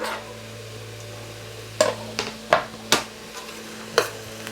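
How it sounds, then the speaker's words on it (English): Garlic and onion cooking in a pan for chile con carne, with a steady low sizzle beneath several sharp, close clacks of a utensil stirring against the pan. "I can add the garlic in and saute that for about another minute"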